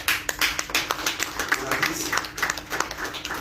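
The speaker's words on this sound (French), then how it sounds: "On applaudit pour notre première" Audience applause at an intergenerational dialogue in Burkina Faso: a steady patter of close, distinct hand claps that keeps going throughout, with a voice speaking briefly over it.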